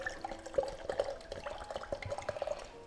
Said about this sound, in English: Now let's turn it on and bring it to a gentle simmer like we were doing before.